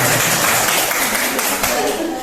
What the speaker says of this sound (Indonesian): Tepuk tangan untuk ibu kepala kita.